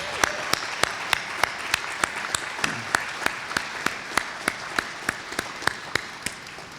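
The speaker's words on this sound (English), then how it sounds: "please give them another round of applause as they make their way out this evening." An audience gives a sustained round of applause at a mayor's state of the city address, a continuous bed of clapping punctuated by evenly spaced loud sharp claps or taps.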